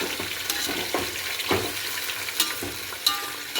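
Chicken pieces marinated in turmeric and salt fry in hot oil, giving a steady close sizzle broken by a few scraping stirs of a spoon, with no voices.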